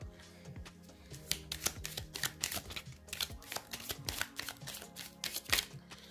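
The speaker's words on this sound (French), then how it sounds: "Je vais rajouter des cartes d'oracle." Oracle cards are shuffled during a card reading: a fast run of crisp, close riffling flutters and soft slaps, repeating steadily throughout with no talk.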